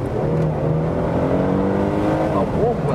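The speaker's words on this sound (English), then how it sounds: "let's accelerate now, 50 to 80 in the Sport Plus mode" A Mercedes C-Class Cabriolet in Sport Plus mode accelerates hard from 50 to 80, a steady loud engine roar climbing in pitch, heard from inside the car with voices over it.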